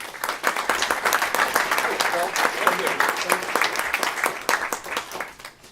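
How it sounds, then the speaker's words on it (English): Audience applause at a tech meetup in San Francisco as a speaker is welcomed, a lively dense round of clapping with crisp claps throughout and some crowd voices and cheers mixed in. "So please, everyone, a big round of applause for Mr. Phil Libin."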